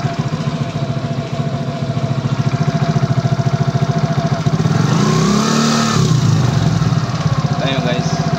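A Suzuki Burgman scooter fitted with a replica exhaust pipe idles with a loud, rapid, steady pulsing, then the throttle is blipped into a brief rev near the middle before settling back to idle, heard close up.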